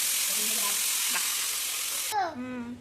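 Pointed gourd (potol) frying in a kadai gives a steady, loud hiss of sizzling oil for about two seconds, then drops away as a voice begins speaking.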